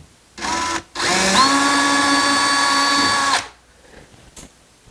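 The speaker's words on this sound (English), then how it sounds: "let's drill that, and let's bring that wire from there up to there" Power drill boring a 1/8-inch hole for range hood wiring under a cabinet, a loud close whine with a brief start, a short stop, then a steady run of about two seconds.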